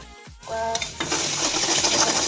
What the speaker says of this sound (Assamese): বিলাহী, পিঁয়াজ আৰু নহৰু দি এটা পেষ্ট বনাই লৈছোঁ। তেলখিনি গৰম হোৱাত মই ঢালি দিছোঁ।